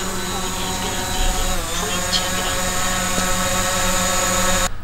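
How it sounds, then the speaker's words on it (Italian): A DJI drone lifts off and flies, its steady high-pitched rotor whine and buzzing motor hum holding loud and close throughout before cutting off abruptly at the end. "e il drone parte."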